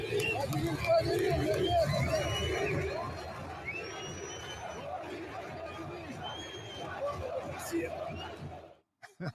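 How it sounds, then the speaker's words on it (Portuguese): Vasco fans chant coach Diniz's name at São Januário stadium, a loud distant crowd roar with rhythmic shouting that swells early and then fades, while a nearby voice talks over it. "a torcida do Vasco gritando o nome do Diniz e tudo hoje em São Januário"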